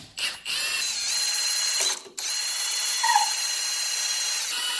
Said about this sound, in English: loosen it from the bottom with an impact